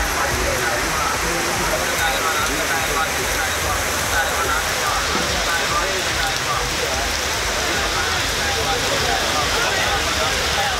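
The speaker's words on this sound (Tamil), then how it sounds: "அரை மணி நேரத்திற்கு மேலாக கனமழை கொட்டியது" Heavy rain pouring for over half an hour across city streets lined with roadside stalls, a dense, steady roar of rainfall close by and unbroken throughout.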